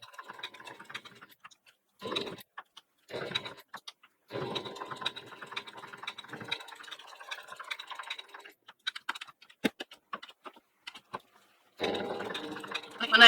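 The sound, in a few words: sewing machine stitching around an appliqué leaf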